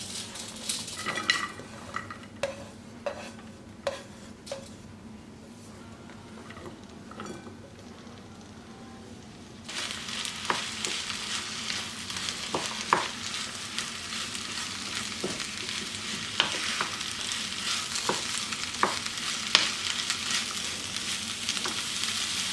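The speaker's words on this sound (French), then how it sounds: "je mets de l'huile et je vais faire revenir mes oignons et mes poivrons" Oil sizzles steadily as onions and peppers fry, with clinks and scrapes of a utensil stirring the pan, the sizzle growing louder and brighter partway through.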